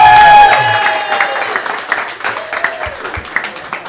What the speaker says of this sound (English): 400 wins, I think, deserves a round of applause.